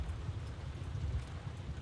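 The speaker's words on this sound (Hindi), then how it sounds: "कितनी तेज बारिश हो रही है।" Heavy rain pours steadily at night in early twentieth-century Birmingham, a dense, even hiss with a low rumbling undertone, no voices over it.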